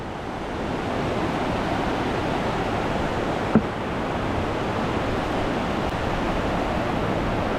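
A strong river current rushes under a bridge in a dense, steady roar of churning water, loud and unbroken, with one small knock partway through.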